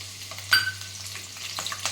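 Green chillies drop into hot oil and sizzle with a sudden crackling burst, then a steady frying hiss settles in, heard alone without speech.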